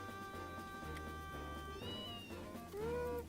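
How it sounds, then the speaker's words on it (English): A cat meows a few times close by, its rising cries sounding over a steady game soundtrack with music and low hum. "Oh, cat."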